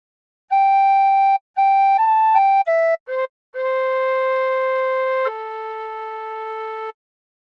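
A clear, pure tin whistle plays a short melody from the hymn What a Friend We Have in Jesus, separate notes, some clipped and quick, ending on two long held tones, no voices.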